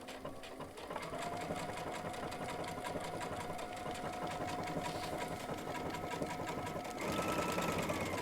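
A Baby Lock sewing machine with a Teflon foot runs a candlewicking stitch on leather, its steady close mechanical whir holding even for several seconds and rising slightly near the end.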